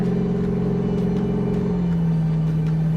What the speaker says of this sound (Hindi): आवाज़ सुने इस गाड़ी की